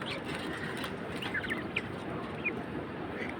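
Quail at a small farm give a few faint, brief chirps over a steady background hum, scattered with pauses rather than calling continuously.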